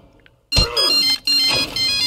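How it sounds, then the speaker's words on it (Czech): A phone rings in Russian Roulette: Online, an electronic ringtone that starts suddenly, loud and close, repeating in two bursts with a brief break between them. "Má telefon."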